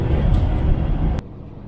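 Steady low road rumble from inside a freelance truck's cab cruising along a UK motorway, loud and continuous before cutting away abruptly to a quieter hum.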